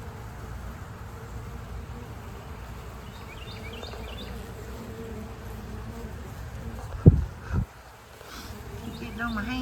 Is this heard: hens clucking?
no